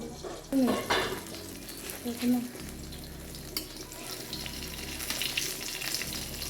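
Eggplant slices frying in a pan, a sizzling hiss with some stirring or handling noises; a few brief louder bumps early on.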